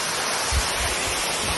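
A waterfall at Lake Belton gives a steady, dense rush of falling water, broad and continuous, with a faint low thump partway through and no voices.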